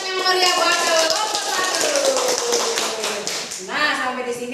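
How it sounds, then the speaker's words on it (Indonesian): Classroom of children applauding a student group, with rapid clapping mixed with loud, sustained cheering voices that hold steady throughout and swell again near the end. "Beri tepuk tangan yang meriah buat kelompok"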